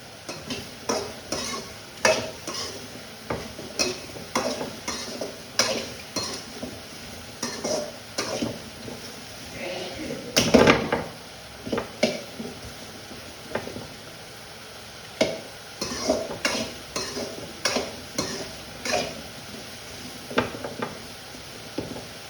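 Vegetables for okra sambar are stirred and sautéed in a pan: repeated scraping strokes of a spoon against the metal over a soft, continuous sizzle, with one louder clatter midway.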